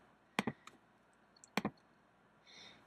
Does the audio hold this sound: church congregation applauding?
no